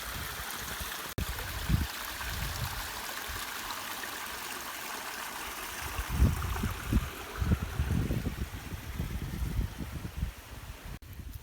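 A small waterfall and stream on Taum Sauk Mountain in Missouri run in a continuous broadband rush, with low gurgling bursts and brief thumps swelling partway through, close to the microphone and with no voices.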